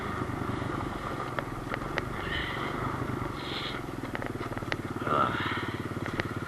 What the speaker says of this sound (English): 2008 KLX110. Thing runs pretty good. Starts first kick just about every time.